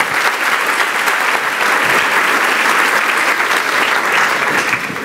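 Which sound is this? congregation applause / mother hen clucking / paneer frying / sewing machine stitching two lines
congregation applause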